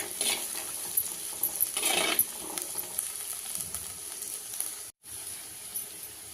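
Onion and garlic frying in a pan with a soft, steady sizzle, interrupted by scraping and clinking stirs from a utensil, heard close with no talking.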